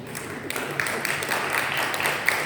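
Brief applause from a church congregation at a GPPS Kaliasin worship service, a steady wash of clapping lasting a couple of seconds at moderate volume, with no one speaking over it.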